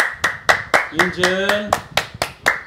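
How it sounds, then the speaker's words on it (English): A young child claps hands in a steady, fairly quick rhythm, about ten crisp claps close by, and a voice speaks briefly partway through. "Can you clap your hands, Angela?"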